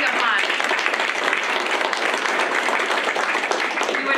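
An audience at a spring legislative breakfast applauds its event sponsors, dense and continuous clapping from a large room that holds at full strength for the whole stretch.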